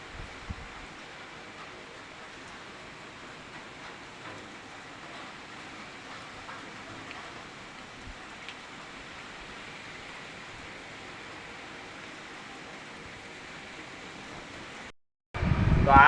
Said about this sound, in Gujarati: તો ધીમો ધીમો ચાલુ થઈ ગયો ભાઈ આપણે વરસાદ